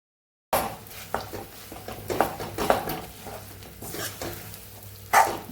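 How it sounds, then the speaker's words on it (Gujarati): Jaggery cooking in ghee in a pan on a very low gas flame for sesame chikki, with soft stirring scrapes and a gentle sizzle that comes in irregular bursts, close by, with no talking. "ગેસ સાવ ધીમો રાખી અને આપણે ગોળનો પાયો એટલે કે પાઈ તૈયાર કરવાની છે"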